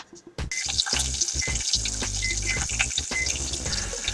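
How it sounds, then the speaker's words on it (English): Bacon sizzles and crackles in a pot, with scattered utensil clatter and stirring sounds over the steady frying hiss. "just 2 pieces of bacon in the pot. Let it just sizzle."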